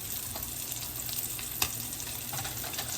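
A smash burger and bun fry in a hot pan, giving a steady close sizzle with faint pops throughout and no talking.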